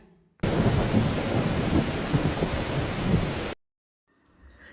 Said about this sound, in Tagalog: Lumakas ang hangin at bumagsak ang ulan.